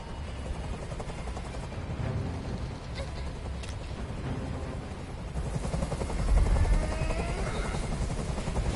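A video game helicopter's rotor drones steadily throughout as it hovers, a dense low thrum with occasional sharper thuds and a brief swell toward the end.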